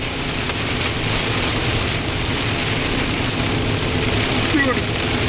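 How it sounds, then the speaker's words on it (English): Hail falling in a violent storm core near Holgate, Ohio, a dense, steady broadband clatter and hiss of ice and rain pelting surfaces close by, continuous and loud throughout. "I hear a little hail."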